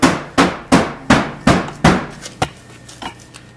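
A hammer bangs on a car body panel during bodywork, about nine sharp, close metallic strikes at a steady rhythm that gradually fade and soften toward the end.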